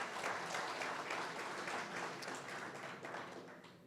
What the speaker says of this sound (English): have another round of applause for him